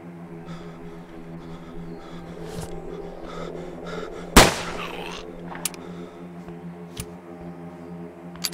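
A single loud gunshot rings out from a gun in the zombie survival game Survive The Nights. It cracks sharply over a steady droning background hum, and a few fainter pops follow.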